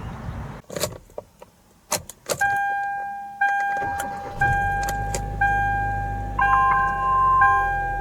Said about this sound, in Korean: 별도로 전원 버튼을 누르지 말고 바로 시동을 걸어주면 됩니다.